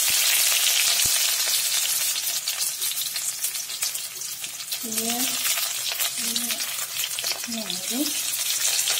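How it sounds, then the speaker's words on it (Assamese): Onion fries in hot oil in a wok, a loud, steady crackling sizzle that runs throughout, while a voice speaks over it in the second half. "তেলটো গৰম হৈছে, ইয়াতে দিলোঁ মই"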